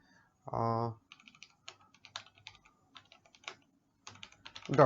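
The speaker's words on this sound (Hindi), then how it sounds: "टाइप करेंगे" Short bursts of keystrokes on a computer keyboard while entering a company website email address, quick irregular taps, close and fairly quiet, with a brief voice at the start.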